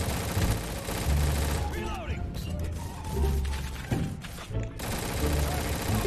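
Gunfire in the Roblox video game RECOIL: rapid, continuous bursts of shots in a dense, rattling barrage with a brief lull in the middle, mixed with game noise and a voice talking over it.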